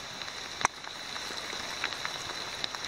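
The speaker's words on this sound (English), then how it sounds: "I think that's just dripping more than fresh rain" Leftover rainwater dripping from trees onto a forest trail on the Appalachian Trail near Salisbury, a soft steady patter with scattered louder drips and one sharp close drop.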